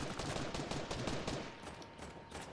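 Dense, continuous gunfire crackles in rapid bursts during a shooter video game match, loud and sustained throughout with no pauses.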